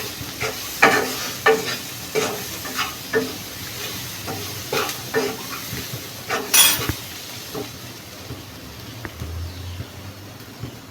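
Spices and garam masala frying in a pan for a brinjal and chana dal curry: a soft sizzle underneath regular spoon stirs and scrapes against the pan, with clinks of metal utensils, close by and no talking.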